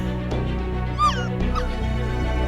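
A hurt dog in the game Fate/Grand Order whimpers with a short high yelp and soft whines over a steady game music background.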